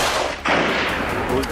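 Hunters fire rifles at fleeing wild boars on a forested slope, a loud sharp gunshot bursting out and echoing into a rolling rumble that fades over the next second.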